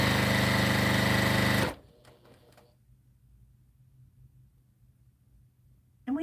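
A sewing machine runs fast and loud for under two seconds, then cuts off abruptly, leaving a faint low hum and near silence.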